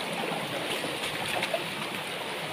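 Stream water rushing steadily during a crossing on foot, a continuous close hiss of flowing river water with no pauses or voices.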